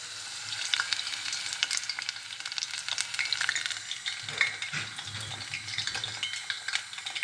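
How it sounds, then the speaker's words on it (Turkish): Hot oil sizzles and spatters continuously around batter-coated cauliflower frying in a pan, with crisp crackles and soft stirring sounds, near and steady. "Karnabaharlarımı sosun içine bulayıp kızgın yağın içine bırakıyorum."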